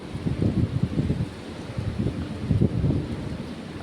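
Strong storm wind with heavy rain buffets the microphone in rough, rumbling gusts that surge and fade repeatedly over a faint steady hiss, with no voices.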